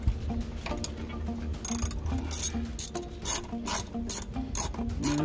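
Ratchet wrench clicking in short bursts while a missed bolt comes off the valve cover of a 1965 Ford Galaxie, close and fairly loud with brief pauses between strokes.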